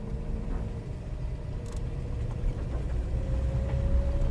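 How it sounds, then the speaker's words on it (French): An old 1984 Talbot Horizon Sherlock engine knocks while driving slowly on a country road, with small carburettor noises. It is a steady low rumble with faint ticking that swells slightly toward the end, and nobody speaks. "le moteur qui claque comme ça fait vraiment ancien. On a quelques petits bruits de carburateur également."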